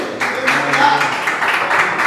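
A church congregation applauds, a dense, steady patter of many hands clapping at once, loud and close, with a voice briefly heard underneath.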